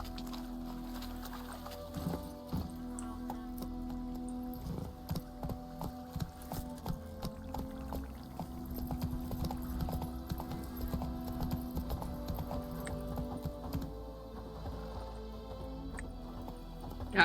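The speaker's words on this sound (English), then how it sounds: "Here's my horse." Horse hooves clip-clopping in a video game, a steady, moderately near rhythmic plodding over a low humming game soundscape, with a few heavier thumps mixed in.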